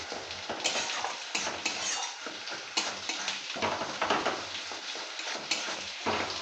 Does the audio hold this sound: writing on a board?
no